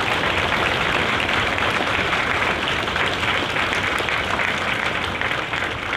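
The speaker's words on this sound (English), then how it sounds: "would you join me in a round of applause for our recruiters and our combat instructors?" Sustained, dense applause from a large audience honoring Marine Corps recruiters and combat instructors at a recruit graduation ceremony in San Diego, steady and loud throughout with no pauses.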